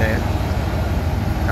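A Putra Pelangi bus with a Sembodo body idles with a low, steady engine and exhaust rumble close by, droning evenly underneath.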